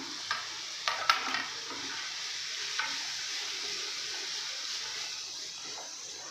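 Carrot, capsicum and beans stir-frying in a pan: a steady, close hiss of sizzling oil with a few sharp clinks of a spatula against the pan, and no talk.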